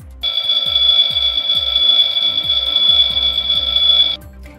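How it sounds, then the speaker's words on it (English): Fireman Sam fire station master alarm from the animated series, a loud continuous electric bell ringing for about four seconds over a steady rhythmic thumping beat, then cutting off abruptly. "They check out the master alarm."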